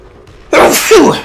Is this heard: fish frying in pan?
no